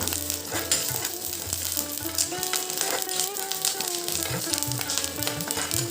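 Curry leaves and dried red chilli pieces sautéing in oil in a kadai, giving a steady close crackling sizzle with stirring scrapes throughout and no talk.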